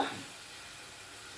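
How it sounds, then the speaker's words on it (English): Soft, steady sizzle of beef frying in a pot, a gentle hiss that fades slightly as the heat is lowered after a brief louder start. "You notice the frying has died down because I lowered my heat"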